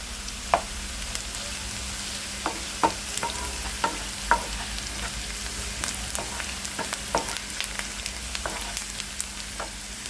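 Onions fry in a pan for a broad bean curry, a constant close sizzle punctuated by regular clicking scrapes of the spatula as they are stirred toward browning.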